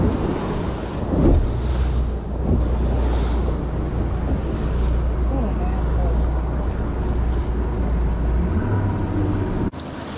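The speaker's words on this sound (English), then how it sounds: "Ain't like we can go anywhere anyway with all these waves" Waves on the Cumberland River slosh against a fishing boat under gusty wind buffeting the microphone, with a low steady rumble throughout and people talking over it.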